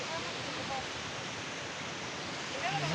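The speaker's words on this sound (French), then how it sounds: "de cette merveilleuse cascade Cola de Caballo" The Cola de Caballo waterfall in the Ordesa valley gives off a steady, even roar of falling water, a broad continuous wash that stays constant throughout.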